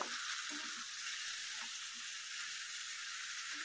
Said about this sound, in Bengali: আদা রসুনের পেস্টটা দিয়ে ভালো করে একটু কষিয়ে নিতে হবে।